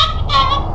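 A rooster in the game Voyage: A Journey to the Moon gives a single short, loud, close gobbling cluck, harsh and rattling, lasting under a second.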